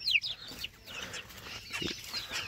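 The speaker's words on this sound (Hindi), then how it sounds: "ये हमारे चिक्स हैं जो कि कुछ असील हैं और कुछ देसी हैं और कुछ मिक्स हैं" Young chicks, a mix of Aseel and desi birds, peep and cluck in a busy pet enclosure, with a sharp high chirp at the start and softer scattered calls after.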